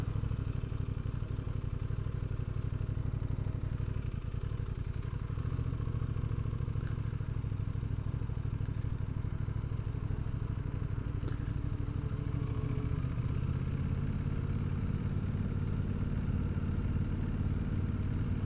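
A 2026 Aprilia Tuono 660 Factory motorcycle engine runs steadily and close, a dense low mechanical drone with slight rises and falls throughout and no talking.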